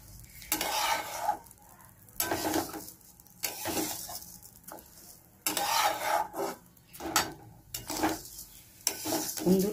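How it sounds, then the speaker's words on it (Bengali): Rice for pulao being stir-fried in a pan, giving repeated bursts of scraping, stirring and sizzling with short pauses between strokes, close and fairly loud. "চালটা একটু ভালো করে ভাজতে হবে।"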